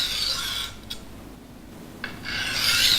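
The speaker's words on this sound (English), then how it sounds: "Sharpen the edge on this stone until it is sharp." A knife edge is drawn across a coarse silicon carbide Norton Crystolon sharpening stone in long, steady abrasive rasping strokes that are close and moderately loud, with two brief scraping taps in a quieter gap between the strokes.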